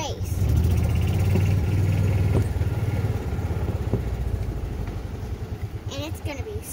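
A golf cart engine cranked and started nearby, a rough loud mechanical rumble that settles into a pulsing idle with some clatter.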